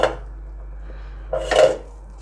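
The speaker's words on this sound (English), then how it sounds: "just scoop it all up little by little and add it right back into the mix." Chopped pork being scooped back into a pot of sinigang, a soft clink at the start and then a brief louder scrape and clatter of utensil against the pot near the end, without talk.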